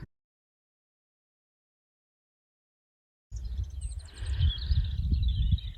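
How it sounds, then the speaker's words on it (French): Small birds chirp and trill at a campsite near a converted van, high bright calls coming in after a long silence, over low rumbling background noise. "Je vous laisse écouter le bruit des petits oiseaux"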